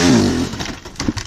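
A Yamaha YZ 250 dirt bike revs briefly during trials riding: a loud, close engine burst that rises and then drops away within about a second.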